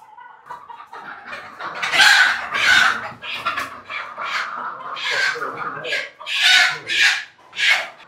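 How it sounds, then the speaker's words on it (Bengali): Several egg-laying hens, Fayoumi and local breeds, cluck and squawk in loud bursts close by on a rooftop farm, an agitated flurry of calls rising and falling, with some voices faintly mixed in. "সবগুলোই ডিম দেওয়া মুরগি"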